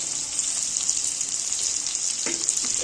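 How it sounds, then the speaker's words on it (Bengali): Tomato and green chili frying in a pan, a steady close hiss of loud sizzling that holds through the whole stretch, with a couple of brief clinks near the end. "কাঁচা লঙ্কা টমেটো দিয়ে আরেকটু আমি সবজিটা ভেজে নেবো"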